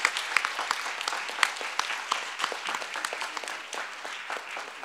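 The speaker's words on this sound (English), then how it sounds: "May we give this young gentleman a big round of applause again" Dense audience applause at a civil society debate, steady and fairly distant with sharper individual claps popping out, continuing throughout without speech.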